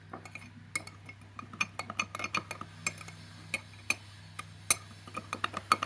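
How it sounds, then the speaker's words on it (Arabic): A spoon stirring instant yeast in a bowl while making Eid kahk cookies, giving a run of light, close metallic clinks and taps against the side of the bowl, irregular and repeated over a low steady hum. "ان احنا نشغل الخميره بتاعتنا ونقلب كويس جدا"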